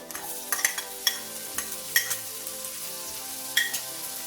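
Chopped onions with garlic frying over a medium flame in a kadai, a soft continuous sizzle punctuated by several crisp spatula scrapes and taps at irregular intervals, close up and with no talking.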